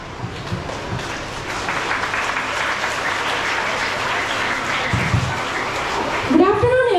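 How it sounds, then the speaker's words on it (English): Audience applause at a school Children's Day celebration, a sustained wash of clapping from a large crowd that fills the hall before a voice begins speaking near the end. "Let's give a big round of applause."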